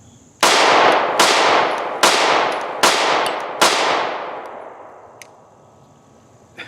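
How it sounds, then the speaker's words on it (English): Stoeger STR-9SC compact 9mm pistol fired five times in a steady sequence outdoors, each shot a loud close crack with a long ringing decay that fades before the next. "when you're firing the gun, I mean, it's definitely low muzzle rise."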